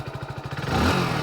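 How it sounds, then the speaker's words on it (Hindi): A 100 cc Hero motorcycle engine catches with a quick pulsing putter, then settles into a steady, close, rumbling idle. "इंजन साउंड सुन लेते हैं, एग्जॉस्ट नोट सुन लेते हैं"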